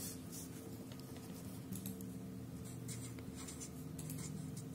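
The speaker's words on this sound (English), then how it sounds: "Now write down the answer." A pen or pencil writes an answer on paper during a math lesson on perimeter, giving faint, close scratchy strokes in short bursts over a steady low hum, with no talking.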